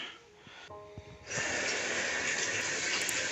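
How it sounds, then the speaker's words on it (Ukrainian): Water gushes steadily from a newly installed bathroom mixer tap, starting after a few faint clicks and handling noises and then flowing loud and constant, close by. "Вода працює, кран робить."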